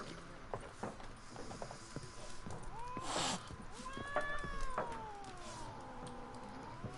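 An in-game cat in The Witcher 3 meows several times in drawn-out, rising and falling cries, faint and set against clicking mechanical game sounds and quiet background ambience.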